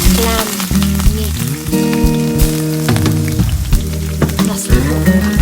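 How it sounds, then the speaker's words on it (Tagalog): Garlic frying in a pan sizzles loudly and continuously close up, with crackling pops and a steady tonal hum running underneath throughout. "nasusunog na ang aking bawang"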